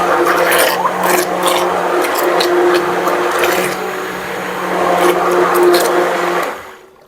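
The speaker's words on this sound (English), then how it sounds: "the aloe vera still had quite a bit of chunks, so I'm just blending it up with my immersion here" An immersion blender purees chunky aloe vera for homemade salve, giving a loud, continuous motor whir with a gritty churning edge that shifts slightly in pitch before cutting off abruptly at the end.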